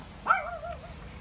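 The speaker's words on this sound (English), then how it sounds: "Excuse the puppy interruption." A puppy gives a single short, high bark that trails off into a brief whine, fairly close and fairly quiet indoors, with no talking.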